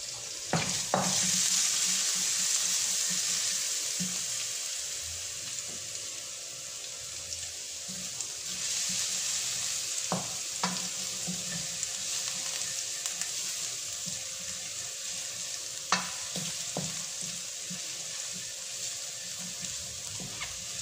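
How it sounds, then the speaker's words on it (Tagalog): Garlic sautéing in a pan for pancit sotanghon gives a steady, close frying hiss that runs unbroken, with a few brief clinks and scrapes scattered through it. "So mag-isa na tayo ng bawang guys."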